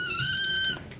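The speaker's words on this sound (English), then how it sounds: "Normally they're like meowing." A kitten gives one short, clear, high-pitched meow close by, tapering off after under a second with no talking.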